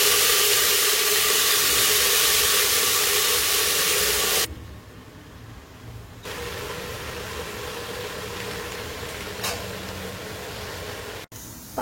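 A pressure cooker cooking vegetables for pav bhaji hisses with a loud, steady jet of steam that cuts off suddenly, leaving a quieter background hum with a brief flare later.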